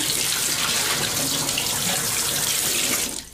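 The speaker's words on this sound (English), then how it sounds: "A little bit of a rinse." Tap water pours steadily into a sink while dishes are rinsed, a close, constant hissing splash that cuts off at the end.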